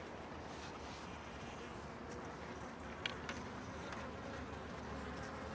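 A steady, dense buzz of many honey bees fills the scene, close and continuous, with a few brief ticks and light wind noise.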